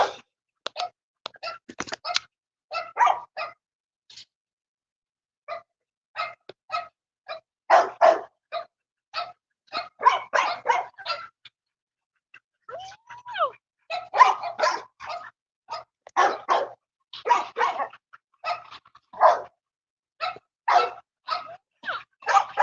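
A black puppy barks outdoors in a yard, sharp yips and barks coming in irregular bursts with short quiet gaps between them, close and fairly loud.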